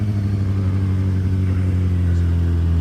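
Motorcycle engine holding a steady low rumble at idle pull, around 4,000 rpm, while the bike rolls through a circle wheelie with no throttle hand; loud, close and continuous with a strong low hum.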